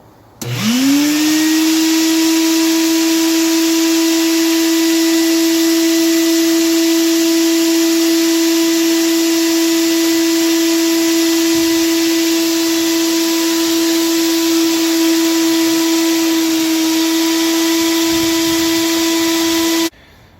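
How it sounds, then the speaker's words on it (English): A shop vac starts up and runs steadily while vacuuming out an older Hot Springs hot tub, its loud, constant whine and airflow roar holding close and unchanged for about twenty seconds before switching off. "I'm going to shop vac my hot tub."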